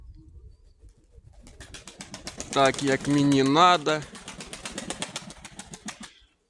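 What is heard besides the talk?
pigeons cooing and flapping wings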